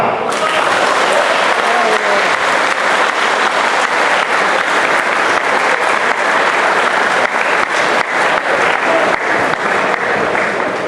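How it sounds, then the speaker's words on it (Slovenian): Sustained applause from an audience at a Slovenian People's Party youth political event, following a speech, steady and loud throughout with no break and no talking over it. "En močan aplavz prosim za te spodbudne in lepe besede."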